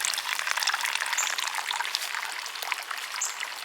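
Garden water overflows and spills onto a pepper plant, a steady close trickling, splashing stream with no talk.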